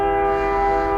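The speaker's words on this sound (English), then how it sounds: "Here goes a train." A train passing near a walking and hiking route to a park, its horn holding a loud, steady, tonal blast through the whole moment, with no talk.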